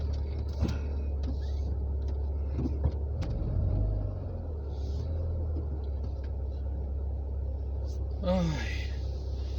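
A car driving along a road, heard from inside as a steady low engine and road rumble throughout, with a few brief clicks and a short vocal sound near the end.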